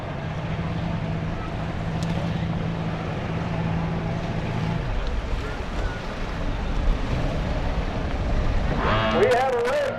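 Racing boats launch off the start in a drag race on Lake Tholocco, producing a constant, roaring wash of engine and water noise blown by wind. A low steady drone fades midway as the broad roar continues.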